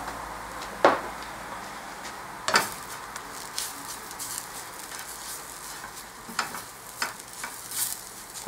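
Dry Indian spices, garam masala and turmeric, stirred in a nearly oil-free pan: faint scraping and soft sizzling with a few sharper clacks of the utensil against the pan, close up and without talking.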